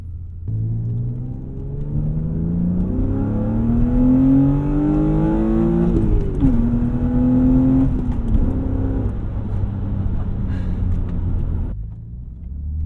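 A BMW E36 M3 in enthusiast spec with stock clutch accelerating hard, its engine note climbing steadily through the revs with a brief dip at a shift, then pulling again, loud and close without talk.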